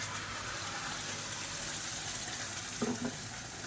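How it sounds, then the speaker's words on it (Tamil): Water runs and swirls while a mixer grinder jar is rinsed during paneer butter masala cooking, a steady close gush with a brief clunk near the end. "இப்போ மிக்சியை அலசிட்டு அப்படியே சேர்த்துக்கலாம்"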